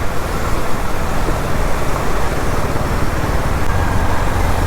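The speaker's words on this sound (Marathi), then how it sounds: "असं ट्रॅफिक असलं ना की मजा नाही येत" Dense Mumbai road traffic rumbles loudly and continuously around a motorbike rider on a dark pre-rain evening, a steady wash of engines and road noise with no distinct voices.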